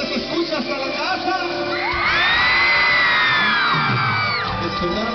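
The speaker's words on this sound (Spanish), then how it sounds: "un grito que se escucha hasta la casa" A crowd at a banda music show lets out a loud, sustained shout. Mixed voices and whoops rise over the first seconds and swell into one long cheer that is held, then trails off.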